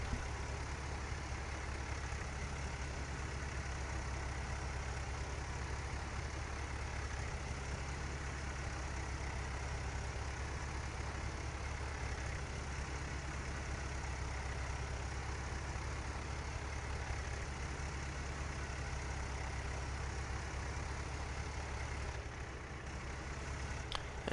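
Tractor engine idling steadily in Farming Simulator 2013, a constant low, heavy rumble with a faint higher hum that holds without change for the whole stretch and has no other sounds over it.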